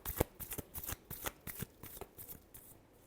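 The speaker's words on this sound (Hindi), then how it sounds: "last shuffle" Tarot cards are shuffled close up and quietly, a rapid run of soft riffling flicks and slaps in an irregular rhythm, with no talk over them.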